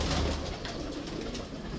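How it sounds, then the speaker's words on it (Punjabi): Domestic flying pigeons at a Punjabi pigeon keeper's loft give soft, low cooing throughout, partly blurred by steady broadband background noise. "ਆਪਾਂ ਦੇਖਣੇ ਆ ਕਬੂਤਰਾਂ ਨੂੰ"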